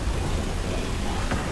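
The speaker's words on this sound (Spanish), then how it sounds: "Está lloviendo recio aquí." Heavy rain pours steadily outside, a dense, loud, unbroken hiss of water on surfaces with a faint low rumble beneath, and no voices.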